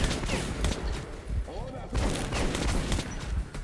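Gunfire from a big firefight in the video game Metro 2033: dense, rapid shots and bursts crackling almost continuously at moderate loudness, with a voice faintly underneath.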